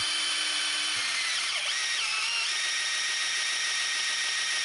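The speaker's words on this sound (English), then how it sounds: "Turn it using a drill until the drill slows down." A high-pitched power drill priming the oil pump of a 1996 Toyota Camry four-cylinder engine whines steadily and close, its pitch dipping briefly as it bogs down under load, with no talking.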